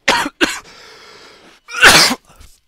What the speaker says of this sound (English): if you hear the mic cut out like a bit, like that's because I'm coughing.